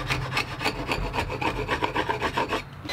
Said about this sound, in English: now I can remove the squeeze out with a sharpened scraper